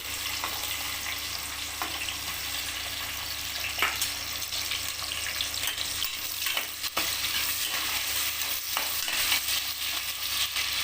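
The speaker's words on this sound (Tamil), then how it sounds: "நல்லா செவந்து வர அளவுக்கு வதங்கட்டும்" Small shallots sizzle and fry in hot oil with fennel seeds in a pan for chicken sukka dum biryani, a loud, continuous crackle with occasional stirring scrapes.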